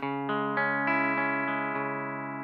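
Clean electric guitar strummed chord by chord, about eight bright, ringing strums in an even rhythm, close and steady with no distortion.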